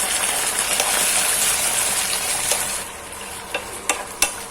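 Pork belly stir-fries with shrimp paste in a loud, steady sizzle, while a few sharp spatula scrapes and taps punctuate the final seconds.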